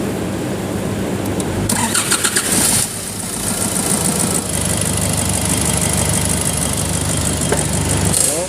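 A Nissan Navara pickup's engine cranks briefly, catches and settles into a steady, loud idle as it warms up, heard close with a constant rumbling drone and no speech.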